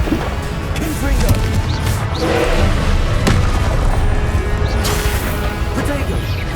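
Confringo fire spells blast repeatedly in combat in Hogwarts Legacy, a dense, loud barrage of booming impacts and crashes layered over continuous battle noise, with a voice calling out over them.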